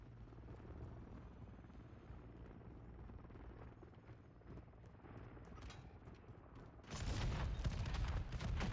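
An enemy overwatch helicopter approaches in Call of Duty Modern Warfare 3, heard as a steady rotor rumble under game noise, growing louder and denser toward the end.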